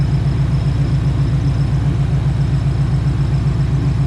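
Car fitted with a swapped Coyote V8 and open headers idling loud and close, a deep, even, choppy rumble that holds steady without revving or pauses.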